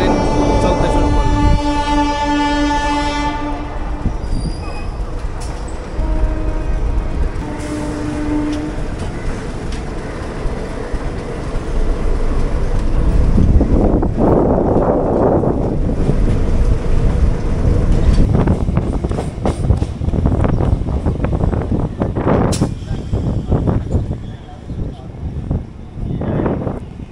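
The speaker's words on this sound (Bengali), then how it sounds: "আমাদের হাওড়া রেলওয়ে স্টেশন থেকে বেরিয়ে এবার কিন্তু মেদিনীপুরের দিকে আমাদের ট্রেন চলতে শুরু করলো।" A passenger train leaving Howrah station bound toward Medinipur rumbles continuously with rattling wheels and wind noise, and sustained horn-like tones sound over the first several seconds.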